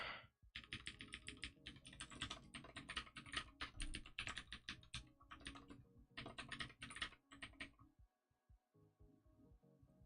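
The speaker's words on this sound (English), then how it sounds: "the totally obnoxious keyboard sound. Somebody's typing." Someone types rapidly and continuously on a computer keyboard, with dense clattering keystrokes close by. The typing pauses briefly a few times, then stops near the end, leaving quieter isolated taps.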